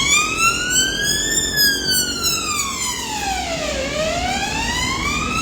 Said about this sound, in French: c'est une ambulance qui est en train de passer.